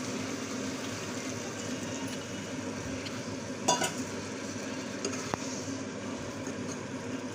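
Chicken curry is stirred in a pot, a soft continuous scraping and sizzling bubble with a few light clinks of the spoon against the metal.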